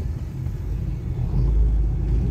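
A car's engine rumbles on a roadside, a steady low drone that swells slightly louder as the vehicle creeps closer, heard from inside another vehicle.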